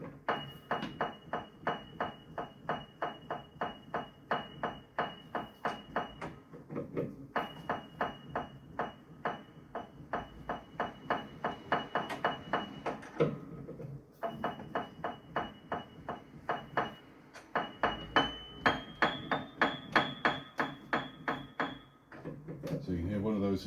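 An old upright piano in restoration, badly out of tune, struck one note at a time in rapid repeated runs with brief pauses between groups, close and fairly quiet, with a thin ringing overtone.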